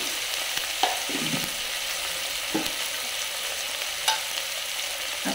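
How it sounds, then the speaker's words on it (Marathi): Masala sautéing in a pan, a soft steady sizzle with a few scattered spatula scrapes, close and alone without speech. "हे आता परतून झालं।"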